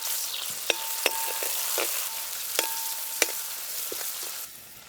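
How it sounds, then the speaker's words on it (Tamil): Oil hisses steadily as cumin seeds and chopped big onions are tempered, a continuous close frying sizzle with a few sharp clicks of a spoon against the pan before it fades near the end. "இப்போ தாளிச்சிடலாம். எண்ணெய், சீரகம், கட் பண்ண பெரிய வெங்காயம்"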